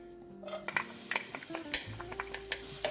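Onion sizzling in olive oil with turkey bacon, a steady soft frying hiss with scattered clinks and scrapes of a utensil against the pan.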